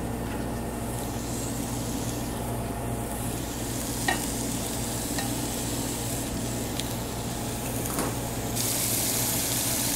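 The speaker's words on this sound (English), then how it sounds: "just going to take the individual steaks, set them down, and we'll brown them" Steady, loud sizzling of beef steaks browning in a hot frying pan, with a few faint clicks and scrapes over the continuous crackle.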